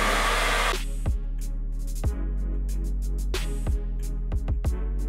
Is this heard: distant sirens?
no